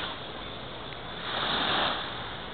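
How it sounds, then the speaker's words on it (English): Waves breaking on a beach beside a boardwalk at sundown, a steady broad wash of surf that swells louder midway through, heard alone without voices. "listening to the song of the waves as they break against the beach."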